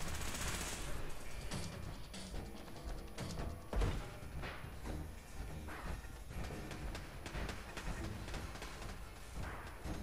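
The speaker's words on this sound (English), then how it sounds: "these turrets are like the scariest turrets in like, the entire game" Turrets in a multiplayer shooter game fire fast, dense bursts of gunfire that run nearly nonstop, loud and close, with heavy thumps layered through the mix.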